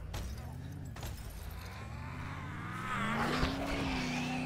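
Car driving in the zombie game Dead Island: a steady engine drone with a rising tonal whine toward the end and a brief impact thump, continuous and fairly loud, with no talking.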